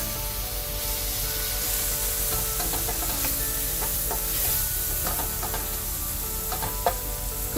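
Chopped tomatoes with oregano and tarragon cook down in a pan, giving a soft, continuous sizzle with occasional stirring scrapes and small pops, fairly quiet and steady with no voices.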